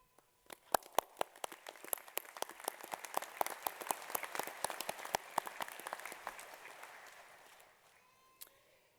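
Audience at a university graduation ceremony in Manawatū applauding, beginning with a few sharp isolated claps that swell into steady, moderately loud clapping from many hands, then fading out with a final lone clap.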